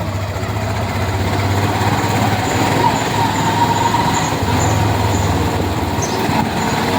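A motorcycle engine runs at a steady, loud idle, a continuous low rumble that holds unchanged throughout with no speech.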